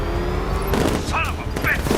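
Rapid gunfire rattles against the Batmobile in Batman: Arkham Knight, with dense bursts of impacts over a low mechanical drone and brief voice fragments in the mix.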